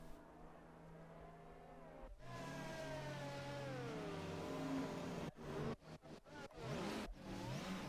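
A race car in a racing game at Monza revs and accelerates, the engine note rising and falling through gear changes, then a run of sharp cut-offs and bursts as the throttle is blipped.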